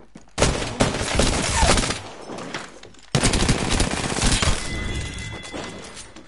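Rapid automatic gunfire in Apex Legends, loud and dense, comes in two long bursts separated by a brief pause, with faint voices underneath.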